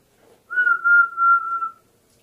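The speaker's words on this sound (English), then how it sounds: "the inward lip roll whistle thingy" One steady whistle made with the lips rolled inward holds a single clear pitch for just over a second, close and solo in a quiet room.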